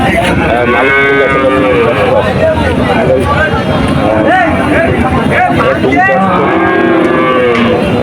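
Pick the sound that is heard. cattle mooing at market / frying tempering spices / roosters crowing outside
cattle mooing at market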